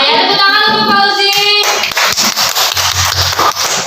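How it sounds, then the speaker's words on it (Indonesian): A classroom of students claps for a classmate, dense rapid hand clapping that follows a brief bit of music and continues loudly and steadily to the end, close and busy. "tepuk tangan untuk Fauzi."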